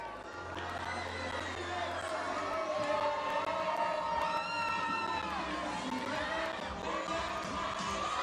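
A rowdy crowd at a Yarchei Kallah 2017 gathering shouts and cheers in dense overlapping voices, with whoops and chants rising and falling throughout.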